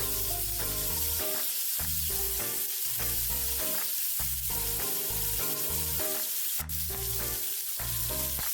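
Beef steaks searing in a hot pan, a loud close sizzle rising and falling in uneven bursts with sharp crackles, alone without speech.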